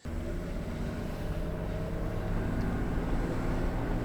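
Old diesel Range Rover P38 with a low-power problem accelerating at full throttle, a steady, heavy low engine drone that builds slightly and strains throughout, heard from inside without talk.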